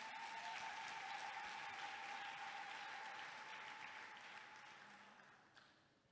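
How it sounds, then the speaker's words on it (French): Congregation applause in a church, a broad, even wash of many hands clapping together that swells steadily and then slowly dies away. "Applaudissons pour le Seigneur."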